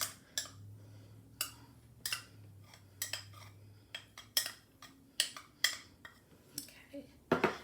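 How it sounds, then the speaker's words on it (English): A metal spoon clinks and scrapes against a bowl while thick tahini is scooped in for hummus, a series of sharp, close taps spaced irregularly over a faint background hum. "Grab a spoon, put the tahini in there."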